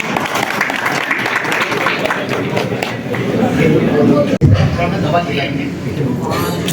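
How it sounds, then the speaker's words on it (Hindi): Audience at a citizens forum event in a sports and culture club gives a loud, sustained round of applause, with voices talking over the clapping and a brief sharp thump partway through. "सब एक बार जोरदार ताली बजा दें।"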